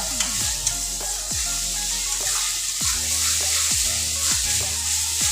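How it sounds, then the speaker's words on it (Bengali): Spice masala for a pabda fish curry frying and being stirred in a pan, a steady close sizzle with repeated scraping strokes of the spoon roughly every half second. "মশলাটা সুন্দর ভাজা হয়ে গেছে"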